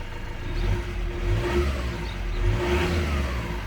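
A 2007 Peugeot Boxer van engine runs steadily with engine flush in the oil, holding a raised, even rev with mild swells in intensity, close and continuous, with no talking.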